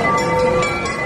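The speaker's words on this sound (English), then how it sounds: "Oh, train coming through." A train rumbles through a crowded area, its steady mechanical roar and humming tones loud and close throughout, with no voices on top.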